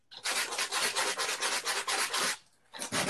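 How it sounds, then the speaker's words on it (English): Hand sanding with sandpaper on a palm sander pad, close and loud: rapid back-and-forth rasping strokes in a steady rhythm, a brief pause, then strokes resume. "it depends too on the direction that I do the sanding"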